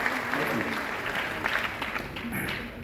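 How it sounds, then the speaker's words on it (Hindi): Audience applause at a Jain satsang gathering, a steady wash of clapping from many hands lasting the whole moment, fairly close and even in level, with some voices mixed in. "एक बार जोरदार तालियां जैन साहब"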